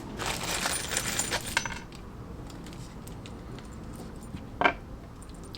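Small metal bolts for a classic Fiat 500 engine crankshaft install clink and rattle briefly, with a light metallic jingle early on and a single sharper tap later, close by.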